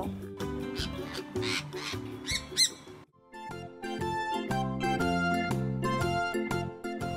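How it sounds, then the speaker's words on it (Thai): A parrot lets out a string of harsh, raspy squawks over the first few seconds before falling quiet, while upbeat background music plays throughout. "นกแก้ว"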